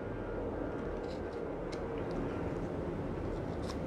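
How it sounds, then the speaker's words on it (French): Airplanes passing over Toulouse, heard as a steady, broad rumbling roar that stays constant and fairly loud throughout, with no talk. "Vous entendez les avions, je suis à Toulouse."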